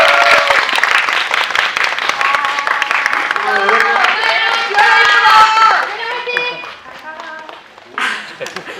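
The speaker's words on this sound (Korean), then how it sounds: "나가실 때도 큰 박수 보내주세요." A cinema audience applauds at the close of a guest-visit screening of a Korean horror film: loud, sustained clapping from a packed hall that thins toward the end, with voices and a musical tone mixed in.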